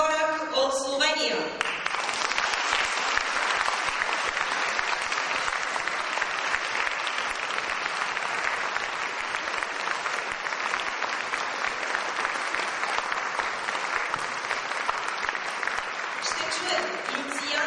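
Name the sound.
audience applause at a concert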